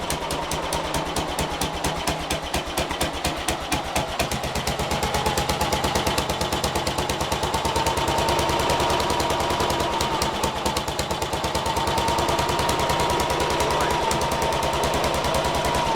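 A Ransomes MG40 crawler tractor, started from cold, runs with a rapid, even engine beat that picks up and steadies, loud and close, with no voices heard.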